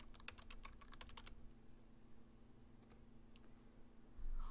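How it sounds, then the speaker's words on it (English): A computer keyboard is typed on in a quick burst of crisp key clicks, then a few scattered taps, close and fairly quiet over a steady background hum. "To start, type in your topic."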